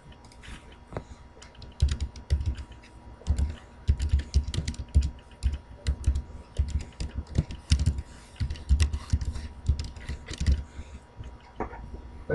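Fingers type on a computer keyboard while entering data into an Excel spreadsheet cell, a steady stream of close, clattering key clicks with uneven rhythm over a faint background hum.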